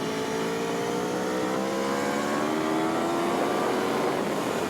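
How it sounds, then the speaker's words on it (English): An Aprilia Tuono V4 1100 motorcycle's V4 engine revs hard and climbs in pitch as it accelerates, with a loud continuous roar and rushing wind noise. "It comes with the territory of the big V4 engine."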